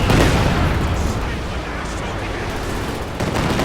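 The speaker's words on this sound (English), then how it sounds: "Katyusha bombardment on the sniper forces it to retreat" Katyusha rocket artillery bombardment in a wartime strategy game, a dense continuous roar of rumbling blasts and crackling impacts, loud and close, swelling slightly near the end.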